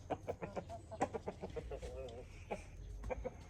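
A rooster clucks in short, rapid bursts close by, with a brief drawn-out call midway, while people talk quietly around it.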